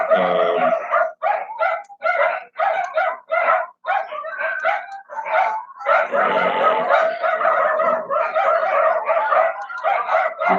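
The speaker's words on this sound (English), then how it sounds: "the dogs are going nuts" Several dogs in the Philippines bark, yip and howl close by in rapid, overlapping bursts. The outburst continues for about ten seconds with brief gaps between volleys and no talk.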